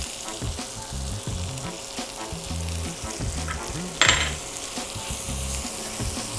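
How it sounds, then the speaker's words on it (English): Shallots and garlic sauté in bacon fat at medium heat, a close, steady sizzle with stirring scrapes and one sharp utensil clink partway through. "We're gonna use some of this to saute our shallots and garlic."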